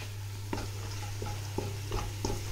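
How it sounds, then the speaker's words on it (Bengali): Chitol fish cooking in coconut milk, with a few soft scraping stirs of a spoon in the pot at irregular intervals over a low steady hum and faint sizzle. "নারকেলের দুধ দিয়ে চিতল মাছ রান্না করছি"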